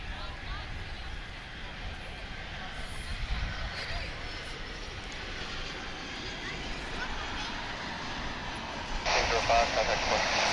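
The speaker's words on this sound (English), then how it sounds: "Our next incoming flight is arriving from Wichita, Kansas. It's another A319." An American Airlines A319 arriving at DFW airport on a flight from Wichita, Kansas, gives a steady distant engine roar that builds slightly toward the end, with a low rumble throughout.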